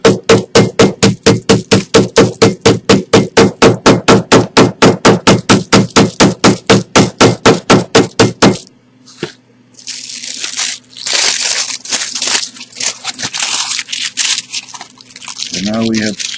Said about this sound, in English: take a mallet and pound down on the aluminum foil to squish the crayon shavings together